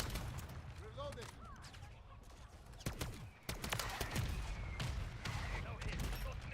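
Gunfire in a video game sounds as a rapid, sharp volley of shots under a steady noisy background, with some whooshing tones, loud and close.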